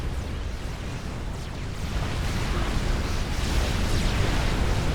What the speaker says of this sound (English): tactical missile, just absolutely annihilated their Team 2's Navy